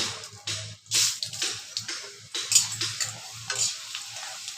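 Golden moong dal is lightly fried and stirred in a pan, a soft sizzle under a series of rhythmic spatula scrapes and sweeps, close and fairly quiet, with no voices.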